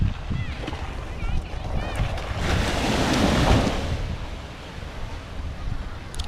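Broad rush of sea waves swelling and fading, with wind buffeting the microphone and faint voices in the background.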